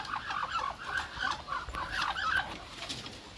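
Backyard hens and chicks cluck and chirp close by in a busy, overlapping string of short calls.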